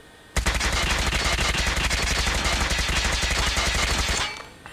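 An HBRa3 rifle fires one sustained automatic burst of about four seconds in COD Mobile. The shots come as loud, rapid, evenly spaced cracks, then stop abruptly and leave a short fading tail.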